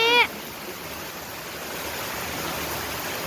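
Rainwater rushing through a farm field after heavy rain, a constant broad roar of flowing water following a brief high cry at the start.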